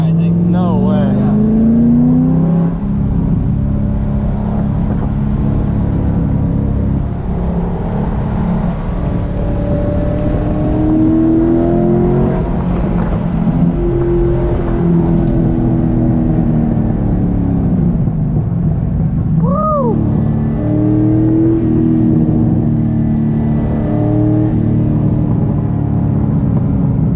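A Corvette follows a Ferrari around the Circuit of the Americas race track, engines roaring loud and close through repeated rising and falling revs as gears shift, with faint cabin voices underneath.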